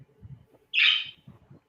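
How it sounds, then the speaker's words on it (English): A single short, bright chirp from a bird cuts briefly through quiet, low background murmurs. "It sounds just like your birds, Cher."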